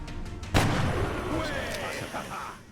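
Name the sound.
gunshot from a video game (XCOM Long War)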